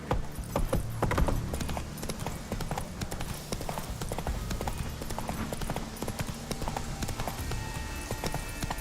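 Roach the horse gallops in The Witcher 3 on PC, a fast, loud and continuous clip-clop of hooves with a busy game soundtrack underneath.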